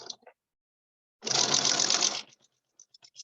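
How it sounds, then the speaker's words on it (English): A sewing machine stitches fabric pieces in a single close burst of rapid needle chatter lasting about a second, set between quiet handling noises. "Now I'm going to take out this pin on this side and just sew this one on."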